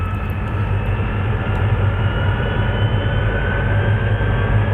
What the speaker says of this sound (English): They're lighting it on fire with jet engine.